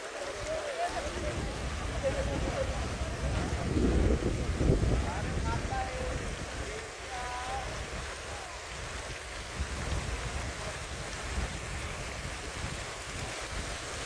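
Fine spray from a water garden fountain near Mysore hisses as a steady, wind-like wash, with a voice talking over it throughout.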